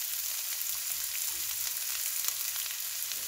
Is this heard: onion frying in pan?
yes